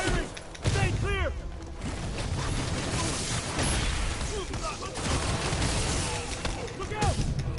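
Artillery fire in a video game, with dense booms and whooshing blasts running continuously through a busy battle mix, while voices and game chatter talk over it.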